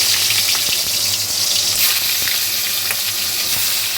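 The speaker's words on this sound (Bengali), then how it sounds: "তেল গরম হয়ে গেছে এবারে একে একে চিংড়ি মাছগুলো ভেজে নেব" Prawns fry in hot oil, giving a steady, close sizzle with light crackles and a low hum underneath, and no talk throughout.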